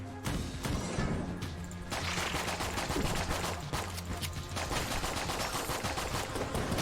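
Enter the Gungeon's Trank Gun fires in quick repeated shots, a dense run of punchy game gunfire over steady background music, loud and unbroken.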